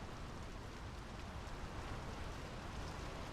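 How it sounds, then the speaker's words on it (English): Steady rain falls in the video game Draugen, a dense, even wash of rain noise with no voices over it. "The rain's picking up."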